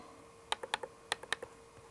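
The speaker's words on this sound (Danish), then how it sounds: "Nu vil jeg bare begynde at prikke, så jeg klikker og klikker." Sharp, close mouse clicks while plotting points in Logger Pro software, sounding in two quick clusters of about four clicks each with a short pause between, crisp and distinct over a quiet room.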